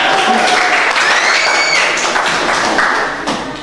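Audience at a book launch for Papua Barat folk tales breaks into loud, close applause, a dense clatter of claps with some voices and whistle-like tones mixed in, tapering slightly at the end.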